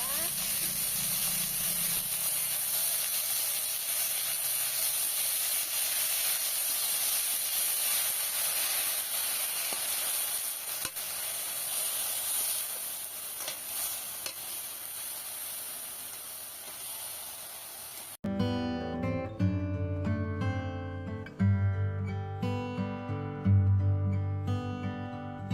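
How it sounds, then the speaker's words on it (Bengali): Washed banana stem pieces hitting hot mustard oil in a wok, a loud steady sizzling hiss close up for about eighteen seconds, then cut off abruptly as music takes over. "সর্ষের তেল দেওয়ার পর এইবারে ওই কলার থোড়গুলোকে কেটে রাখা জলে ভালো করে ধুয়ে এখন কড়াইতে তুলে দিচ্ছি"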